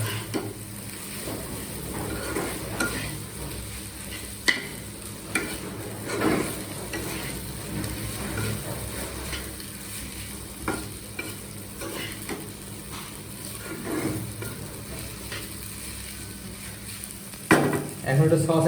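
Egg noodles sizzle steadily in a hot pan while being stirred, with scraping utensil clacks and occasional louder knocks against the pan throughout.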